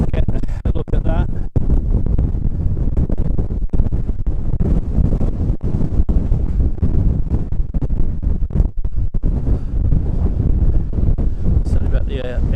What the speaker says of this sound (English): Another wind is tremendous here.